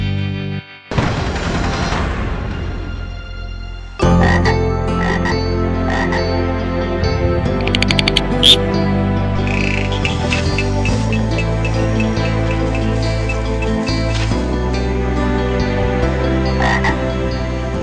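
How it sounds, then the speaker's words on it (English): A new toad species, Bufo, croaks in a dense, loud chorus of many overlapping calls that pulse on without a break; the din swells sharply after a brief lull near the start. "it is an entirely a new species of toad that's scientifically known as buffer"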